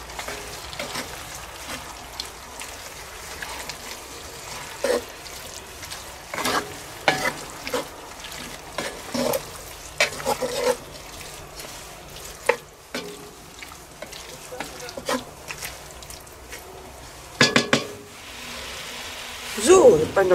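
Sausage pieces sizzle and fry in a pot while being stirred, a steady crackling bed with scraping stir strokes and clanks, and a person talks intermittently over it.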